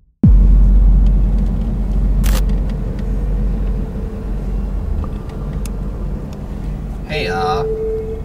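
Car rolling along slowly under 30 km/h, a steady low engine and road rumble filling the cabin, with a sharp click partway through and a short tone near the end.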